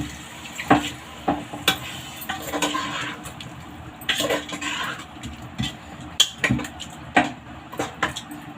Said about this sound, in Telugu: ఇప్పుడు దీంట్లో 1/2 గ్లాస్ వాటర్ వేద్దాం.